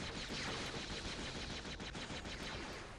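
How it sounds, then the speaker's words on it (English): Gunfire in the video game Jedi Knight II: Jedi Outcast: a dense, unbroken barrage of rapid shots that stays loud throughout, with no pause and no speech. "So I'll just fire a shitload of times until they die."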